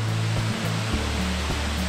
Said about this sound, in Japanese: 滝